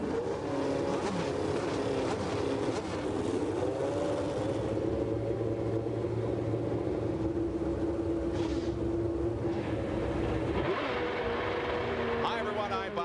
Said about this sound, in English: Ladies and gentlemen, start your engine.